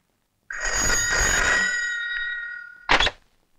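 A telephone rings in a Hindi action film scene: one long electronic ring of about two seconds, then a short second burst, loud and close with no talking over it.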